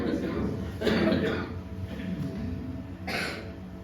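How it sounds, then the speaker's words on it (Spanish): A man coughs a few times in short bursts, with a louder cough near the start and another near the end, close to the microphone and alone, with no speech over it. "Me va a perdonar por la tos que está molestando"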